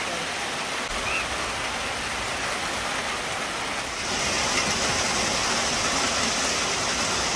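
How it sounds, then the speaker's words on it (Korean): Steady, dense broadband hiss of heavy rain pouring down on a children's football match in Africa, continuous and fairly loud, growing slightly stronger about halfway through. "여기도 비가 세네요"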